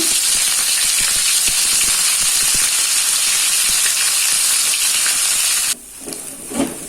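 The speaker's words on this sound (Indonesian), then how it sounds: "Dan untuk lengkuasnya ini saya goreng ya." Galangal fries in hot oil after chicken in a home kitchen, giving a loud, continuous sizzling hiss that cuts out suddenly toward the end, followed by faint bubbling and light clatter.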